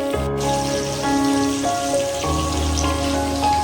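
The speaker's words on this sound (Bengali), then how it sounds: "আলুগুলো লাল হতে থাক, লাল করে ভেজে নেব।" Potato pieces frying in oil in a pan for a yogurt chicken dish give off a steady, dense sizzle, loud and close, with no talking over it.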